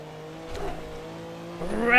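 A Porsche 962 C race car engine in Assetto Corsa hums at steady revs, then climbs sharply in pitch as the driver accelerates after a curb, loud and close, with a voice talking over it.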